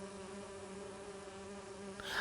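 A steady, droning buzz of bees around an artificial hive fills a scene in an Agatha Christie video game, continuous and even throughout, with a brief brighter noise at the very end.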